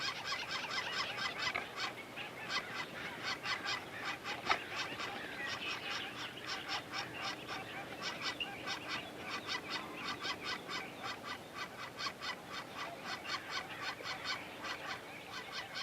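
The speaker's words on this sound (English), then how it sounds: "The hungry young flickers are waiting to be fed." Hungry young flickers calling from inside a backyard nest box make a steady, dense chorus of rapid, buzzy chattering that pulses continuously, close and fairly loud, with no talk.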